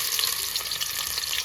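Food frying in deep hot oil on a home stove, a steady close crackling sizzle with faint stirring, alone without any voices.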